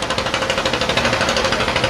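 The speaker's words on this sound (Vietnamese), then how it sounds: "chiếc vừa chạy qua là ghe cào sim nha" A Tien Giang shrimp trawler about 24 m long passes on a Vung Tau waterway, its engine thumping in a fast, steady, knocking rhythm, loud and close throughout.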